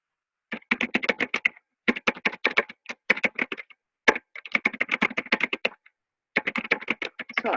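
Computer keyboard typing, rapid bursts of crisp clicking keystrokes separated by short pauses, close up and alone, with several distinct runs of keys across the span.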